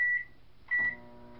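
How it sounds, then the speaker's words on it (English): A microwave oven keypad gives two bright electronic beeps, the second sustained slightly longer, close and clear with no voices. "Pop this back in the microwave."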